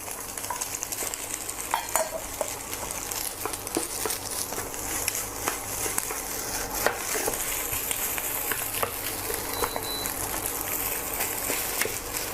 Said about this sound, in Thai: ค่อยๆผัดให้เข้ากันนะครับ